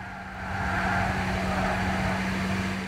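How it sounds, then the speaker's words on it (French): Tire noise from a race car in Gran Turismo 6, a steady loud engine and road roar that swells in and holds without a break. "Oh mon dieu, le bruit des pneus"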